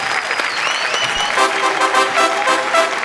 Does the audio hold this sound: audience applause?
yes